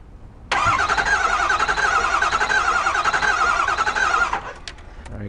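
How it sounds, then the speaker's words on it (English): A car engine cranks over and fires into a steady running note for about four seconds, fairly loud and close, then cuts off abruptly, leaving a few faint clicks and clatters. "I'm going to crank this over."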